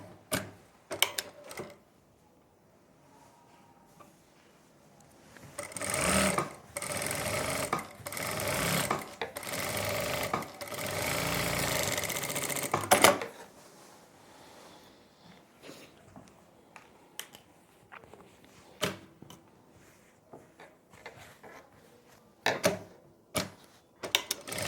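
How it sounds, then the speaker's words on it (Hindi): A sewing machine stitches the top seam of a winter suit in short bursts: a fast mechanical whir runs for several seconds, then comes a long run from about six to thirteen seconds, with quiet handling clicks between. "ऊपर से अब हम लगा देंगे सिलाई"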